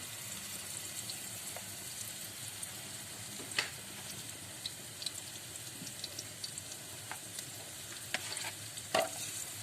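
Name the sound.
egusi mixed with onions frying in oil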